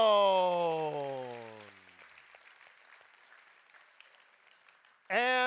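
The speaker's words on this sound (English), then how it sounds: "a warm round of applause" Audience applause at a hackathon awards ceremony in Hong Kong, a moderate, steady wash of clapping in the middle stretch after a voice fades out, with a voice cutting back in loudly at the end.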